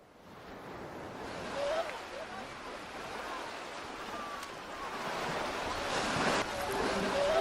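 Indian Ocean waves roll against a golden sandy shore, a steady, diffuse wash of surf with a rising crash near the end, moderately faint and heard alone.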